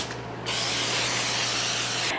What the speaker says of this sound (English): then we wanna spray it with a nonstick cooking spray.